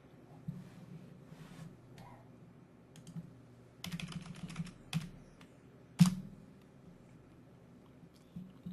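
Quiet, close keystrokes tapped on a computer keyboard in uneven bursts, with a few louder clacks standing out against a low background hum, and no talking.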